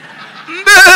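A voice imitates a goat kid bleating, a short wavering nasal cry that rises sharply and loudly at the end, alone and close.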